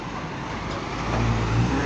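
A Patas intercity bus, a Wiji Lestari coach from Semarang via Tuban, pulls into the arrival shelter at Purabaya Bungurasih terminal. Its engine rumble swells nearby over steady roadway traffic and a low idle hum.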